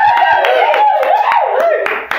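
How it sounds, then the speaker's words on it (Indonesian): Brief, brisk audience applause at an Islamophobia talk show, a dense burst of hand claps that stays loud throughout and tapers slightly at the end. "Tepuk tangan dong, tepuk tangan dong."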